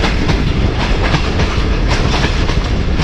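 Rhythmic clickety-clack of a passenger express rolling at about 40 km/h on a line in Pakistan, heard from aboard as a dense, loud, continuous rumble with regular wheel beats.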